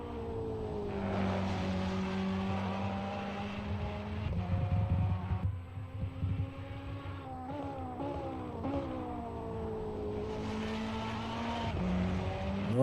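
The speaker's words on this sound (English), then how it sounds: "Let's just listen to this beautiful Ferrari." A Ferrari race car laps the Hungaroring in a racing video game, its engine note climbing and dropping through gear changes and corners, a steady, moderately loud whine with no voices.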